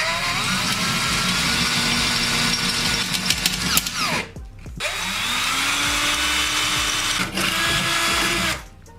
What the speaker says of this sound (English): We're gonna go ahead and drill out the hole for the old intermediate clutch